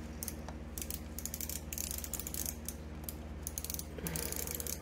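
A 1920 Singer 127 sewing machine, filthy and partly taken apart for restoration, has its shaft mechanism turned by hand, giving close, steady mechanical clicking and ratcheting with a low hum beneath and no speech.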